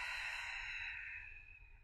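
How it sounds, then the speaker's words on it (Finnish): A soft exhaling breath during a Pilates exercise, a single steady airy hiss fading toward the end, close and quiet with no talk over it. "ja ulos hengitys"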